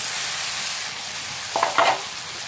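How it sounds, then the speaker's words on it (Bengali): Boiled potatoes stirred into a masala of spices cooked down in oil for a potato and egg curry, with a steady broadband sizzle from the pan and two short spatula scrapes near the end; no one speaks. "ভালো করে মশলার সঙ্গে আলু মিশিয়ে নিতে হবে"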